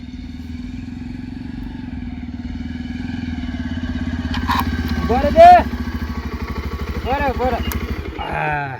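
A motorcycle engine idles with a steady low throb, close by, while people talk over it.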